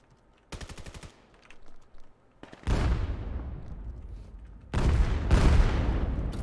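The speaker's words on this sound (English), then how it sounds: "see the firefight exchange" Gunfire exchange in the VAIL VR competitive shooter: a rapid automatic burst early on, a few single shots, then two loud sustained volleys of heavy fire with ringing decay, close and dominant, with no talk.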